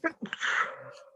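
A single sharp human sneeze bursts out at the start, with voices speaking briefly right after.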